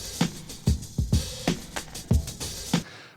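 A classic hip hop drum break plays alone with punchy kicks and crisp snares in a loose, looping groove, loud and close.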